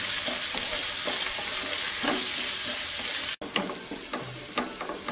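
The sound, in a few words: sautéing onion and tomato with ginger garlic paste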